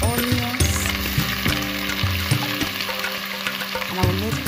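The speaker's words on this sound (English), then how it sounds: "I'm going to add in a little bit of oil" Onions frying in oil in a cooking pot for a chicken curry, giving a close, steady sizzle that runs through the whole moment with slight stirring movements.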